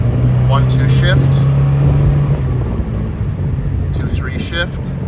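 A 1991 Alfa Romeo Spider Veloce engine drones steadily from inside the car as it shifts from first to second gear. Its tone drops partway through, and a faint voice comes in now and then.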